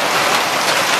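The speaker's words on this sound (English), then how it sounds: "That's how hard it's raining and hailing right now." Heavy rain mixed with hail pours over freshly cleaned house gutters in mid-October in Western Washington, a dense, steady roar of water close by with no voices.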